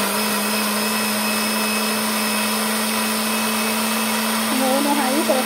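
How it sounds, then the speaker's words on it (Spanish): Beans being blended in a kitchen blender, a steady loud motor whir running throughout, with a faint rattle and brief voice near the end. "Ahorita le vamos a licuar los frijolitos."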